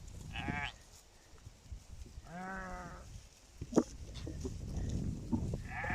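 Dumba sheep and goats in a herd in Saudi Arabia let out two or three distinct, moderately close bleats spaced apart over faint outdoor background noise.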